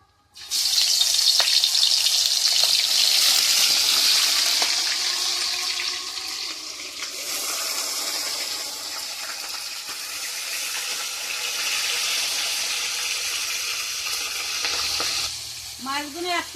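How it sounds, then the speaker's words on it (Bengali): Fish frying in a hot wok gives a loud burst of sizzling as the pieces go into the oil, then settles into a steady, bright crackle with a few stirring clinks. "কড়াইটা গরম হয়ে গেছে, মাছগুলো দিয়ে দিই।"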